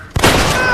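A single loud gunshot blast in a horror film scene, an abrupt boom that rings out and sustains with a dense reverberant tail.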